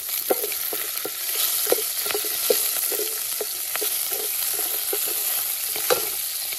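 Green chillies and a pinch of asafoetida fry in a pan of hot oil for a village-style yardlong bean dish, with a constant sizzling hiss broken by sharp crackles and pops close by.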